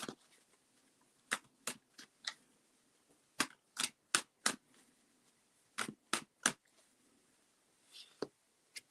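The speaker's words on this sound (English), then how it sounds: "Because I started shuffling when I see you in the room." Tarot cards are shuffled at a psychic tarot night in quiet, separate bursts, each a short crisp riffle or snap, coming in irregular clusters with brief pauses between them.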